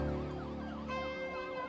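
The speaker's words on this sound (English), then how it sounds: "you can hear sirens from police" Police sirens wailing in a film soundtrack, steady rising and falling tones sounding faint and slightly distant for a brief moment.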